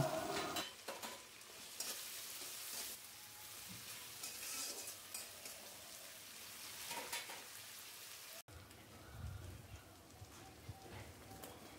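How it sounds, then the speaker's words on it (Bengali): Turmeric and spices sizzle and crackle steadily in a hot pan for a fish-head cabbage curry, with occasional stirring scrapes, a soft continuous frying hiss throughout. "এইসব দিয়ে আমি মশলাটাকে কিছুক্ষণ কষিয়ে নেব।"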